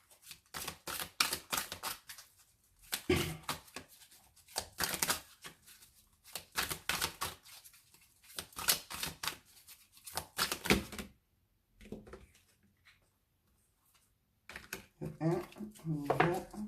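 New oracle cards, still stiff, being shuffled and drawn by hand: repeated crisp snapping and riffling bursts in irregular clusters, close and moderately loud, with pauses between and talking in places.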